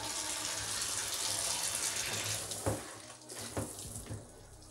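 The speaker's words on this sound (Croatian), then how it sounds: "Mi ćemo sada ovo sve da saperemo i česmu sam ovamo namazala." Tap water gushes steadily while rinsing a freshly cleaned bathtub and its faucet. The flow cuts off after about two and a half seconds, leaving a few short splashes and drips.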